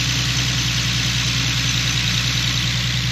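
Nissan 370Z with a VQ37 V6 idling under the open hood, a steady close, loud low rumble with an even pulsing throb throughout.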